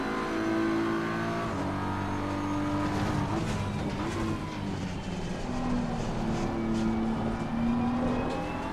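A McLaren race car in Assetto Corsa Competizione roars at high revs with engine pitch shifting up and down through gear changes, loud and continuous with faint tire noise.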